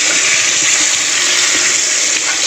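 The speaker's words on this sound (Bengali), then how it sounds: "আমি কিন্তু এবার জল দিয়ে দেবো।" Water pours steadily and loudly into a pan of fried, spiced vegetables, a continuous close rushing splash with no talk.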